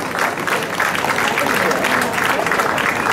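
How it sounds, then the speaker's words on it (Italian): Concert audience applauding the guitarist at a reading event, a loud, dense, continuous burst of clapping from a crowd with no pauses. "a cui fare un applauso"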